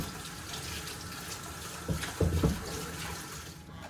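Hot water runs steadily from a sink tap over a bristled brush being rinsed, a close, even rush with a few short, louder splashing bursts midway as the brush is worked under the stream.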